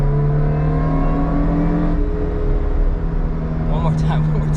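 Supercharged Subaru Vivio RX-R kei car engine revving while driving, a loud, steady engine drone with a shifting tone that fills the cabin throughout.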